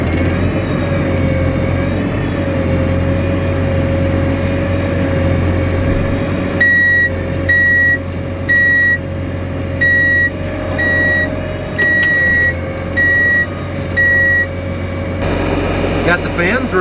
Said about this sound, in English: Got the fans running. CCS motors running.